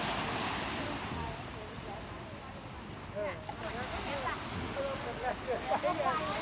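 Sea waves washing in at high tide on a morning shore, a steady rushing surf with wind noise, while someone talks over it.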